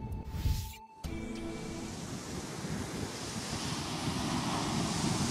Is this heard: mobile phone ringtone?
no